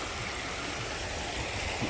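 A strong river current rushes nearby, a dense, loud, unbroken roar of water filling the whole short stretch with no other sounds standing out.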